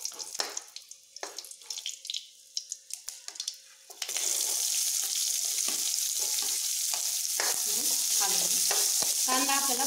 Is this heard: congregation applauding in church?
no